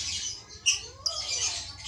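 Male lovebird chirping while displaying, giving a few sharp squawking chirps close by, with a steady hiss of background noise behind.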